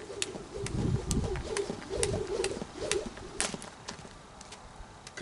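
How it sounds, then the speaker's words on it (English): Pigeons or doves coo outdoors on a sunny day near a garden patch, a low murmuring coo repeating through the clip over light ambient noise, with a few sharp clicks above. "be nothing but birds out here eating"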